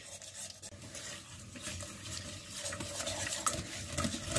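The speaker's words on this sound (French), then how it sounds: "Pour éviter les grumeaux, il faut vraiment ajouter petit à petit et bien fouetter." A whisk beats milk into lasagne béchamel sauce, giving a steady, fairly quiet swishing and scraping against the pan that grows slightly busier toward the end.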